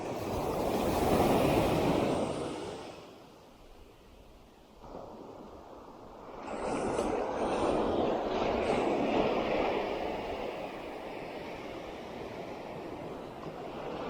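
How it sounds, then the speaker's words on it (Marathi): A camera drone passes overhead with a low droning engine, swelling and fading against steady wind and outdoor noise, fairly loud at first then receding. "इथून आता एक ड्रोन गेला"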